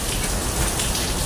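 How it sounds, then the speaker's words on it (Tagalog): Steady rain falls, a dense, even hiss of drops on surfaces that stays unbroken throughout the short stretch. "dito sa lugar namin umuulan"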